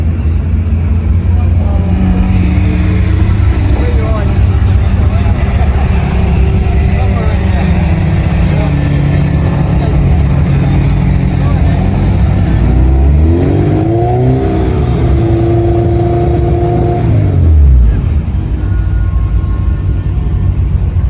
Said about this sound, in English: We're currently at noise testing just before quali.